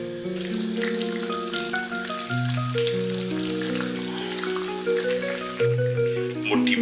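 Soya chunks curry gravy sizzles in the pan as about a cup of water goes in, a continuous frying hiss running under steady background music.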